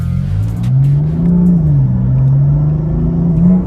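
BMW M4 with S55 engine and MHD tune running anti-lag, a loud, steady low exhaust drone that swells and dips in pitch as the throttle is held, close by and continuous with no talk.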